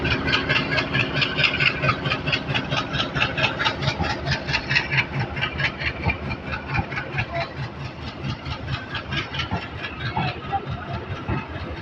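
A train's engine chugs loudly at a station in a steady, pulsing rhythm of heavy beats, the rumble easing slightly toward the end with no talk over it.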